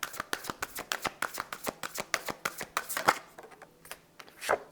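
Oracle cards are shuffled by hand in a steady run of quick crisp riffles and slaps, close and distinct, slowing and trailing off toward the end, with no talking.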